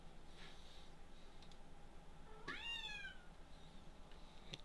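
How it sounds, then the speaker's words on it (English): A single cat meow from a Minecraft game, about half a second long and fairly clear, rising over a steady low background hum. "Kitty's meowing"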